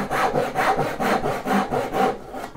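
A hand saw cuts houndstooth dovetails in wood, making steady back-and-forth rasping strokes, about five even, close and clear, with no talking.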